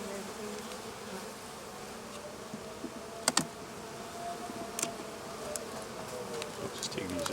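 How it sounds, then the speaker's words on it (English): Bees buzz inside a hive with six frames of bees, a soft, steady, continuous drone that runs throughout, broken by a few faint clicks and knocks of the frames being handled. "There's 1, 2, 3, 4, 5, 6 frames of bees in here."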